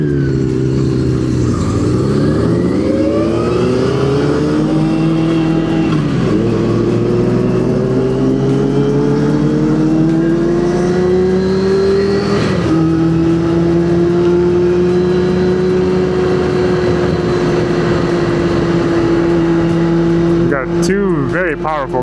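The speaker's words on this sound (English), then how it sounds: "Two very powerful cars behind me." Powerful cars accelerating in heavy traffic, engines rising and falling in pitch as they rev close by, with a steady loud road drone throughout.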